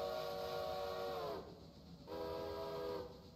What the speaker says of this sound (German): Toto, probier die Pfeifen aus